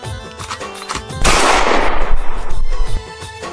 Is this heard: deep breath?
no